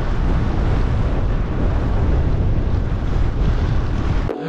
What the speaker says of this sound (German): Immer schön gegen den Wind, Schneesturm